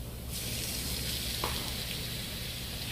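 Ground beef sizzles and fries in a hot pan, a steady close hiss with a brief scrape or stir partway through, and no talking.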